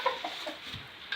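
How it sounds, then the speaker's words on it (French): A hen clucks near a new incubator's chicks, a few short soft clucks spaced through a brief quiet moment with no one talking. "la poule est arrivée là. Elle glousse toujours."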